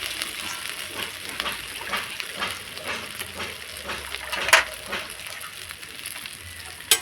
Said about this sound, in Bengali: আদাটা ভালো করে ভেজে নিয়ে নিচ্ছি।